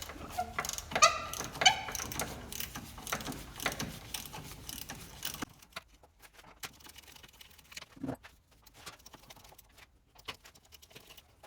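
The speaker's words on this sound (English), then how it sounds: "There's 4 1/2-inch nuts. Or take the 1/2-inch wrench," A 1/2-inch wrench breaking loose nuts on the factory power steering bracket of a C3 Corvette: close, irregular metallic clicking and ratcheting, busy at first, then sparser and quieter taps.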